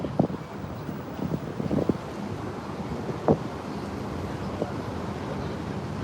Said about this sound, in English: So we got some wind kick up.